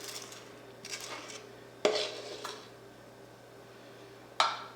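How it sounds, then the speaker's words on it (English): A small spatula scrapes around the edges of a baking dish of peach cobbler in a home kitchen, giving a few short clinks and scrapes with sharper knocks of utensil on dish, fairly close and otherwise quiet. "I might need to get a spatula to assist me"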